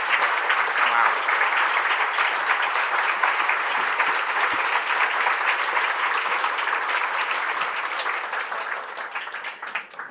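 Steady applause fills a celebration event as an audience claps continuously at a fairly even level, slowly thinning toward the end, with little voice heard.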